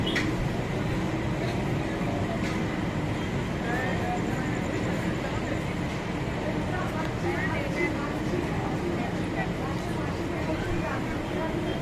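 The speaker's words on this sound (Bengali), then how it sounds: "এই ট্রেন হাওড়া থেকে 20 কিলোমিটার চলে আসার পর এখন যে স্টেশনটি পার করছে এটি হলো শেওড়াফুলি জংশন" A local train on the Howrah–Bardhaman line rumbles steadily through Sheoraphuli Junction station, a continuous even roar of wheels and carriage noise from inside the moving train.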